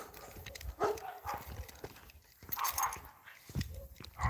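Dogs barking nearby in short, agitated bursts that come irregularly, some sharp and loud, mixed with faint clattering and no talking.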